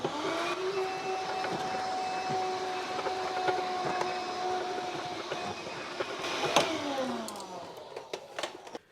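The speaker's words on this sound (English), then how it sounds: "Okay, let's give it a vacuum." A vacuum cleaner hums steadily while cleaning inside a Mortal Kombat 4 Arcade1Up cabinet, its tone shifting near the end as the nozzle knocks and scrapes against the cabinet's wooden interior.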